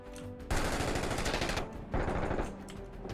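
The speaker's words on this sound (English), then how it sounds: "Oh, shots fired opposite." Automatic gunfire in a military video game, two loud sustained bursts of rapid shots close by, separated by a brief pause, with no talking.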